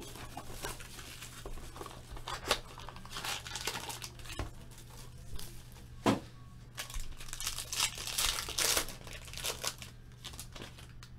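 A trading card envelope is opened by hand, with close crinkling, tearing and rustling of paper in irregular bursts over a steady low hum.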